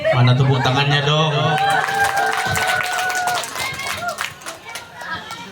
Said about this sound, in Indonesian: Mana tepuk tangannya dong?